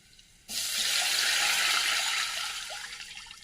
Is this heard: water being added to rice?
yes